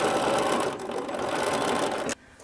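A sewing machine top-stitching through a boxer shorts waistband runs steadily and loud for about two seconds, then stops abruptly, leaving quiet room tone.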